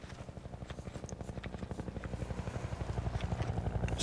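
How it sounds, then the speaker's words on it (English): A helicopter flies in Half-Life 2, its rotor thudding in a fast steady rhythm that grows gradually louder as it approaches, heard alone. "Is that chopper gonna get me?"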